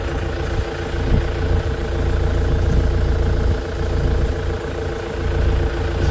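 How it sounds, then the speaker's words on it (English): A Ford Transit van's engine idles nearby, parked in Bakewell in the Peak District; a steady low rumbling hum runs throughout with slight fluctuations, close and fairly loud, with no talking. "Left the engine running."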